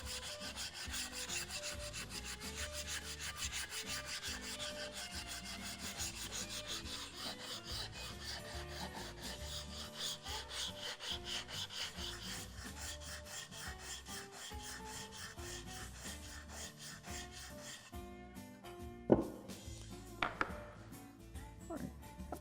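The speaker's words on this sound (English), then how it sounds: "I just sanded it to 80 grit there" Hand sanding of wood with 80 grit sandpaper, a steady rubbing rasp running continuously for most of the stretch before stopping near the end, followed by a couple of brief knocks.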